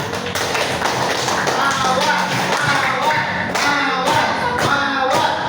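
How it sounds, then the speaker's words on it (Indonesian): Classroom applause for a student group, many hands clapping in a dense, lively patter with a few sharper claps standing out, continuous and close for several seconds. "Ayo kita tepuk tangan dulu untuk Mawar"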